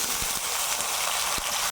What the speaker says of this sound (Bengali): এখন আমি আলুগুলো ভেজে নেব। আলুগুলো দিয়ে দিচ্ছি তেলে।